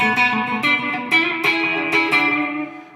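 A guitar run through a DOD FX96 Echo FX analog delay pedal with the voicing knob turned all the way up, played as a handful of plucked notes that ring with gritty, echoing repeats and fade out at the end.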